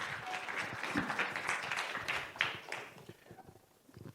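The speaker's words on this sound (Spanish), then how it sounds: "démosle un gran aplauso" Audience applause for a speaker at a soil health and regenerative fruit-growing event, a dense wash of clapping that holds steady, then thins and fades toward the end.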